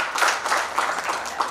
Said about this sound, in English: Round of applause to her.